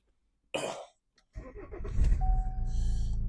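A 2014 Vauxhall Insignia with a CDTi diesel engine starts up after a short cough-like sound, the engine catching and settling into a steady, loud, close idle.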